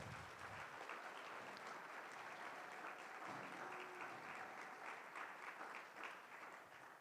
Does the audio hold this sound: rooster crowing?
no